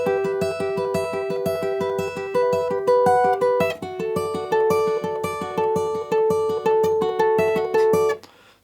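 A guitar picks out the intro to a song as repeated, evenly spaced plucked notes in a steady arpeggiated pattern, clear and close with a chord change midway and a final ringing release.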